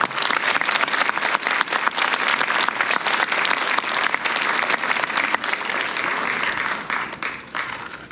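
Sustained, steady clapping fills a middle school auditorium during a spring band concert, a dense crowd of hands close by that thins a little toward the end, with no voices over it.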